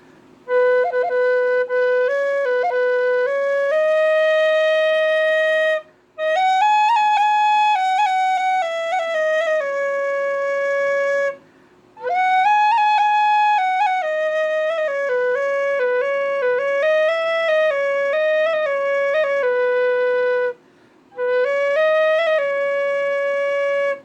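A tin whistle plays the worship melody of Jesus at the Center in bright, sustained phrases, alone and close, with three short pauses for breath between sections.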